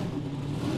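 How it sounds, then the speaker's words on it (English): A GTO drag car engine at a drag race, a brief loud low rumble as the revs build and waver as if close to stalling. "You can hear the engine revs build up, and then it's like it's trying to stall."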